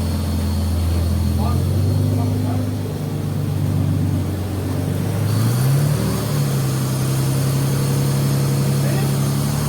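A car converted to a manual gearbox, its engine idling and then revving up as the clutch engages and it pulls away, loud and close, with people talking over it.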